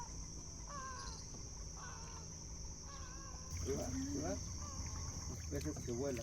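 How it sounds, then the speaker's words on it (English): Birds call at dawn on Guatemala's Pacific coast, a few chirping and warbling voices in short repeated phrases over a steady insect drone and low background rumble, moderately distant. "The birds are waking up."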